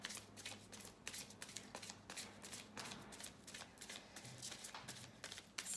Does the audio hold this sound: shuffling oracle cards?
yes